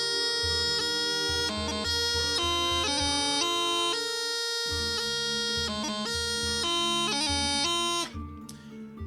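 Highland bagpipes play the opening line of the tune Skull and the Brave, bright chanter notes clipped by quick grip embellishments over a steady drone, close and loud, then cutting off near the end.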